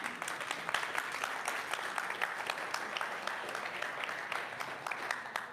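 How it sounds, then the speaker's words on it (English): A church congregation breaks into steady applause during a sermon. The clapping is dense and even, heard at a moderate distance, and no one speaks over it. "Yeah, you can applaud that."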